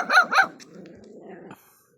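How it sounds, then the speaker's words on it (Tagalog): Several dogs outside a house beside a road barking: two sharp loud barks close by, followed by a lower, fainter growling and yapping that fades out. "ang ingay nitong mga aso."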